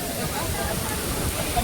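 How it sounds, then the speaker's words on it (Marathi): Water rushes loudly and steadily at the waterfall at Marleshwar, a dense unbroken roar up close, with faint voices mixed in. "पाणी येतोय का वर जातोय काय समजत नाही."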